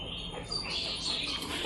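Pigeons in a coop, soft chirps and calls over a constant background hiss, close and fairly quiet, with no talking.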